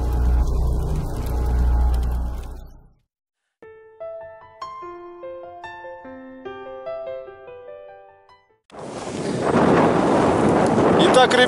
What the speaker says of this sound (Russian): у нас ветер